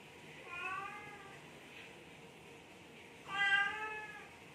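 A cat meows twice, quietly and fairly close, with a pause between the two calls and nothing else around it.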